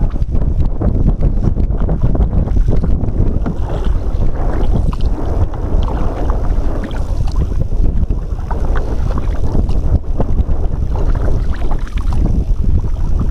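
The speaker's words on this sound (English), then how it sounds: "The wind is the other way now." Strong wind buffets the microphone while a canoe is paddled on a lake, a constant roaring rush with faint water sounds and no talking.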